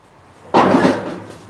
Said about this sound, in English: I'm just going to open the shutter door there